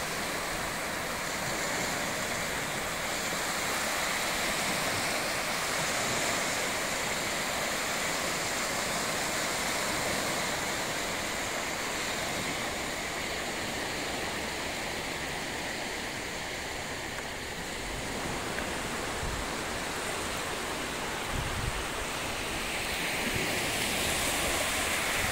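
Sea waves along the coast at Ras Al Khaimah wash in as a steady, broad surf roar, continuous and moderately loud, with wind mixed in and no voices.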